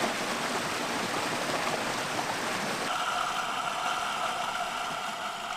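A waterfall and stream at Geomnyongso in Taebaek, fed by clear, cold spring water from limestone ground, rush in a continuous broad hiss. The tone shifts slightly partway through, and no one speaks.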